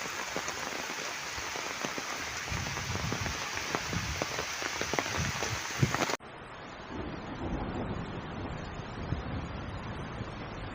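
Heavy rain pours steadily on a village home in the rainy season, a dense, continuous hiss of drops hitting surfaces close by, with a brief dip partway through before the downpour carries on just as thickly.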